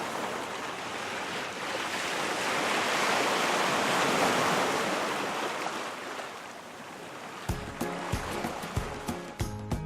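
Ocean waves wash onto a San Francisco beach in a continuous roaring surge that swells and fades, then gives way near the end to brief clicks and tonal sounds.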